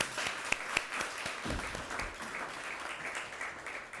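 Audience applause for graduates of a city entrepreneurial program, sustained clapping from a crowded room with a few sharp individual claps and whoops standing out early.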